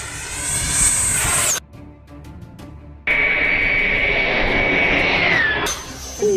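RC F-4 Phantom model jet at full throttle, a loud sustained turbine whine with a high pitch that drops as it passes, cutting out briefly mid-pass before returning just as strong and sweeping downward again.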